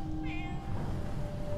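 A strange monkey-like cat creature in Wolfenstein II gives a single short, nasal meow over a steady game background hum.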